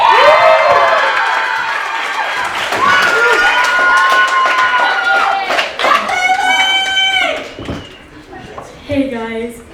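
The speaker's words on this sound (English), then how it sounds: "Give it up for Lily" A crowd at a live comedy show cheers, whoops and claps for a performer being introduced, loud and sustained, with shouting voices over the applause before it fades.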